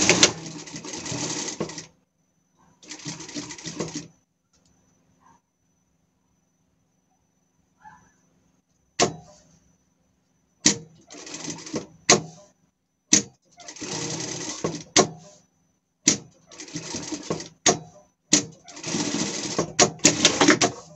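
A sewing machine stitches an appliqué onto a Paw Patrol Chase costume in short bursts, a few seconds of steady whirring broken by pauses and small clicks, close and alone with no talk.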